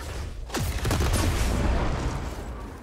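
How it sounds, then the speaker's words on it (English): Gunfire in the video game Returnal: a sharp shot followed by a sustained, loud burst of rapid weapon fire and explosive impacts that fills the next couple of seconds. "I'll just shoot my way through."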